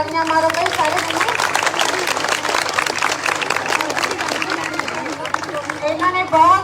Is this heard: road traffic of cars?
no